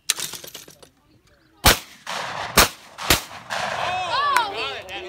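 Shotgun blasts at clay targets on an outdoor range: three sharp, loud reports about a second apart, each with a short echoing tail, with people talking around the shots.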